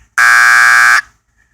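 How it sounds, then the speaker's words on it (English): A loud, steady electronic septic tank alarm buzzer, an SJE Rhombus unit, sounds alone for under a second, then cuts off abruptly into silence. "know that my tank alarm has a problem"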